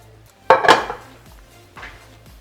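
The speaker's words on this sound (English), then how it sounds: "we're now going to transfer our ossobuco to the pressure cooker with everything that we have made" Ossobuco being transferred into a pressure cooker makes a sharp metallic clank of pot and utensil, followed moments later by a softer knock, close and with no talk.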